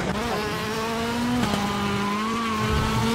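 A heavy car's engine roars steadily in an Xbox racing video game, its tone holding nearly level before a brief dip and recovery, loud and close with no talk.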